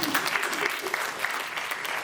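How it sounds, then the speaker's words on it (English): An audience applauds at a women-in-tech panel event, a brief wash of steady clapping with faint voices beneath, moderately close and even throughout. "if you're clapping, please keep clapping."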